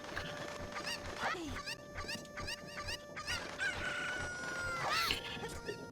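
Chickens in The Legend of Zelda: Ocarina of Time, Master Quest, crow and cluck in a game village, with a rooster's crow rising near the start and again near the end amid repeated clucking.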